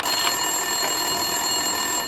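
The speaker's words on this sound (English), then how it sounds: "Winterson's phone was ringing." Desk telephone ringing in the Max Payne 2 video game, a steady electronic trill sustained through the moment, moderately loud with no talk over it.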